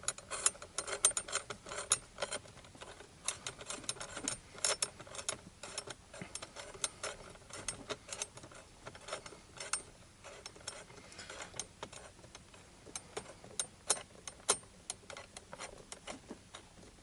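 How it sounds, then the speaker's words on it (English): Screw being driven in to secure a mechanical boost gauge mount on a BMW 335i, giving a steady run of small clicking, ratcheting mechanical ticks close by, with no talk. "So now we can get this other screw in to get our mount completed."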